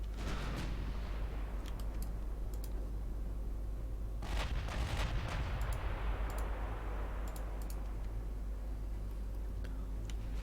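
Naval gunfire in the warship strategy game Ultimate Admiral: a steady low rumble with scattered sharp cracks and a heavier boom cluster partway through, distant and continuous with no talking.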